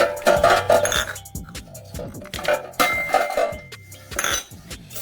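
Metal air fryer tray clinking and clattering as it is set into a vertical air fryer, several sharp knocks and rattles in quick succession, close and clear with no talking.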